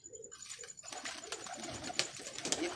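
A pigeon coos close by in a few soft, throaty phrases that repeat over a faint background hiss.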